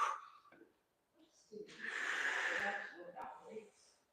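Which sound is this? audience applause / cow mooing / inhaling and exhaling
inhaling and exhaling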